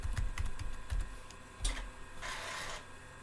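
Keys tapped on a vintage Altair 8800 computer setup during CP/M configuration, a handful of close, sharp clicks in an irregular rhythm, followed by a brief burst of whirring mechanical noise.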